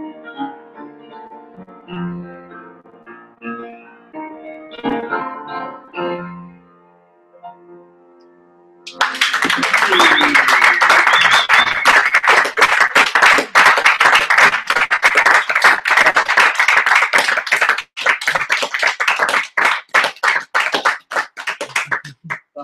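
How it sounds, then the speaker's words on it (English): Sustained applause from a house concert audience breaks out loud and dense after a soft sung and played passage fades, claps rattling on for over ten seconds before thinning out toward the end. "people applaud for longer"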